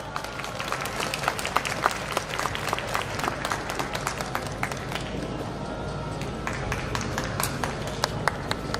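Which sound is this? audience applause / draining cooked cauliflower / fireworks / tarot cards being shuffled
audience applause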